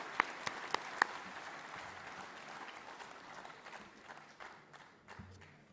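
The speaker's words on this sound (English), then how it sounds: "Huge round of applause for all the parents as well." At a student session with JEE toppers, an audience applauds the parents: a few sharp, distinct claps at first, then a soft, distant wash of clapping that fades out.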